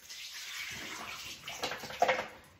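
Running water splashes and trickles while a tank of 35mm film is washed during home developing, a quiet steady wash that swells with a few louder splashes near the end; nobody speaks.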